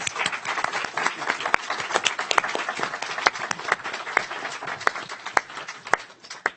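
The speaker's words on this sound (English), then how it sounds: "Let's give our honorees a round of applause." Applause from an audience honoring award recipients at a 2018 student mentoring session, dense sustained clapping with sharp individual claps standing out, steady and fairly close throughout.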